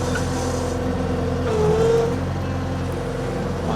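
The engine of an F700 vehicle runs steadily nearby, with a low constant rumble that swells briefly midway.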